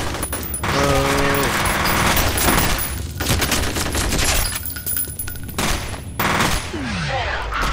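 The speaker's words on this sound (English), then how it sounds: "Suppressive fire!" Rapid automatic gunfire in the shooter game F.E.A.R. rattles in loud sustained bursts broken by brief gaps, with a short voice cry and a falling whistle-like sound near the end.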